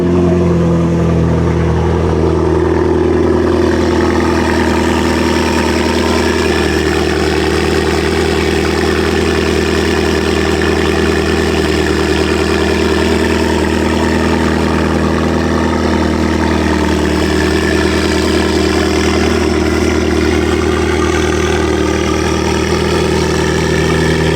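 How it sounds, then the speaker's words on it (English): A McLaren sports car engine idles loudly and steadily after a cold start, a deep continuous rumble close by, holding an even roar throughout with no talking. "We'll get a quick cold start."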